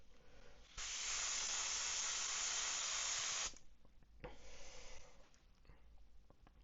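An airbrush sprays paint onto a 3D printed brown trout fishing lure, a steady hiss lasting about three seconds, then a second softer burst after a short pause, all fairly quiet.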